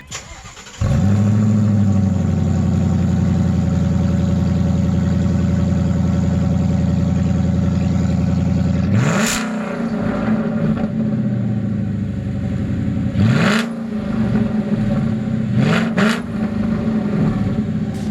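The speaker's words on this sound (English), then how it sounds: "we got the stock muffler off. And this is a GT350, so there's no mufflers in there from Catback." A 2016 Ford Mustang GT350 with a straight-pipe catback exhaust and no mufflers fires up and settles into a loud, deep, steady idle. About eight seconds later the engine blips, then keeps rumbling under a few sharp throttle stabs.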